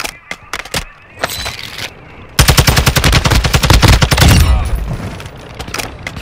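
Gunfire in the video game DMZ begins as scattered sharp single shots, then breaks into a loud rapid automatic burst that runs for about two seconds before tapering off, with voices shouting in between.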